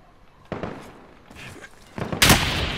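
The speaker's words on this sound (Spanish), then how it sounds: "Dispararon, dispararon." Sharp gunshots fired from above toward a window, two loud cracks with a burst of noise, near and harsh over a low background rumble.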